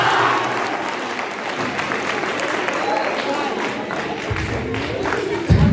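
A crowd at a Republic Day celebration at a teacher training college in Masaurhi, Patna, claps steadily and loudly throughout. Faint voices mix into the applause, which ends with a brief sharp thump.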